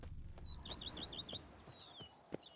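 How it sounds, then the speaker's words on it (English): Small birds chirp in The Witcher 3 game world, a quick run of high tweets followed by a few scattered calls, faint over a low ambient background. "Birds are chirping."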